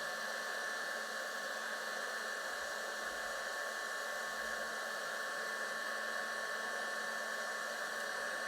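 A heat embossing tool blows steadily on embossing powder as the granules melt into a faux enamel finish: a constant, close whirring hiss with no change in pitch and no voices.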